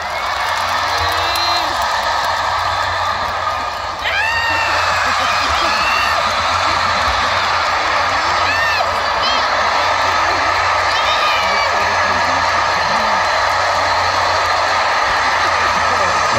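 A concert crowd in Busan keeps up a loud, dense roar of cheering and high whoops, with a voice over a PA speaking above the constant din.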